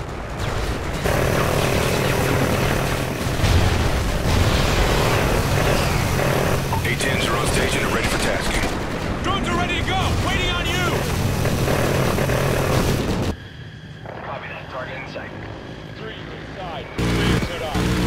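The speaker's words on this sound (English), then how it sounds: "A-10 drones on route." A-10 drone aircraft roaring in over a beach battle in Call of Duty Ghosts, a loud sustained engine drone that cuts off abruptly near the end, with voices talking over it.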